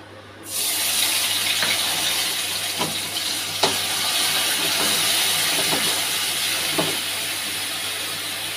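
A strong, continuous sizzle and hiss comes from a tomato dropped into a pan of frying ginger and garlic, starting abruptly and staying loud, with faint utensil taps underneath.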